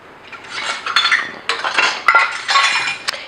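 A knife slicing through a breaded cauliflower floret on a board, a few close crisp taps and clicks of the blade with short scraping cuts, no talking.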